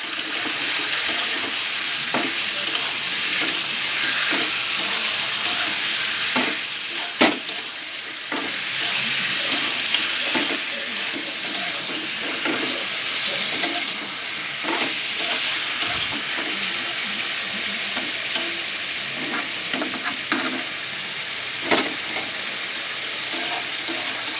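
Chicken kosha frying in a pan, a loud steady sizzle with repeated spatula scrapes and knocks as the meat is turned over, close up and continuous throughout.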